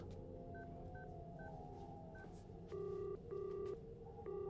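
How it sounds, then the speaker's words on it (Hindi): A telephone number is dialed, a string of short electronic beeps followed by longer, louder keypad tones in a quiet room. "फोन लगाओ, मैं उनसे बात करना चाहता हूँ"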